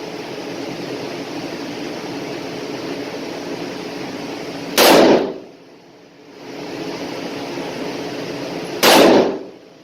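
A handgun with a wood grip fires 125-grain semi-jacketed hollow point personal defense rounds: two loud, sharp blasts about four seconds apart over a steady outdoor hiss, with no talking.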